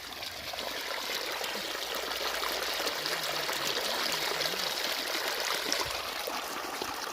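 Irrigation water from a pump running slowly flows steadily into a farm field, a continuous broad rushing and trickling that stays even throughout with no talk.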